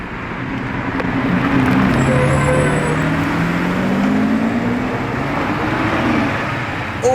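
A Lamborghini Revuelto passes on a road, a steady engine drone rising and falling as the car moves by amid traffic noise, with no talk.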